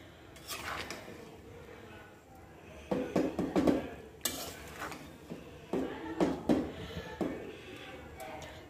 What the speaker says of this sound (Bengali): এগুলোকে পিস পিস করে এখন সব নুডলসের মধ্যে দিয়ে দিতেছে